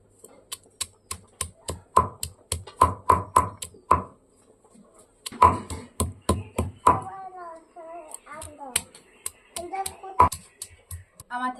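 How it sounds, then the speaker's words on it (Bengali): Raw green mango and onion are crushed by hand on a grinding stone with salt and chilli, giving a run of sharp, evenly spaced knocks that pause and then start again, with someone talking in between. "এদিকে আম একটু থেতলে নেব"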